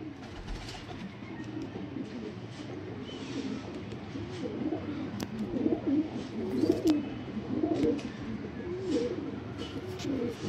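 Sialkoti pigeons coo in low, overlapping murmurs close by, a steady soft burble that continues throughout with faint background noise and no talk.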